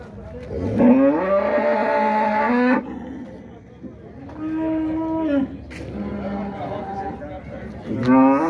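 Several dairy cows moo loudly and close by at a cattle market, long drawn-out lowing calls following one another with short gaps between them.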